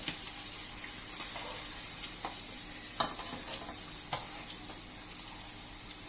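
Onions frying in a pan, a steady bright sizzle throughout with a few stirring scrapes and clinks, close and continuous with no talk.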